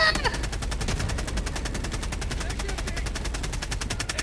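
Rapid, evenly spaced machine-gun fire from a shooter video game, a steady loud stream of shots running the whole stretch without pause.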